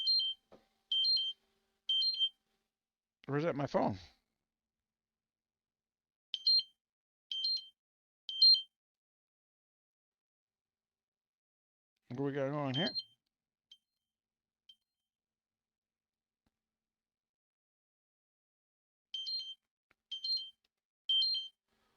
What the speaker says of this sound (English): Hold on, I got some alarms going off here.